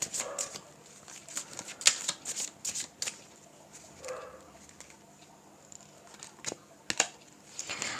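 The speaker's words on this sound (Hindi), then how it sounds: "कुछ कार्ड्स ले लेते हैं।" Tarot cards shuffled and drawn by hand: a quick series of crisp riffling flutters and soft slaps, close and fairly loud, with short pauses between bursts and no talking.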